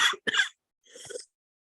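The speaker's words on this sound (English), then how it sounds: "I'm about to cough" A person coughs twice in quick succession, then gives a softer throat-clearing cough after a short pause, close to the microphone.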